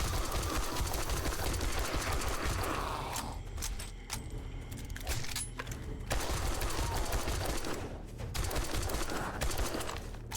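A video game shootout with sustained, dense gunfire throughout, sharp shots and rattling bursts layered over a constant background roar.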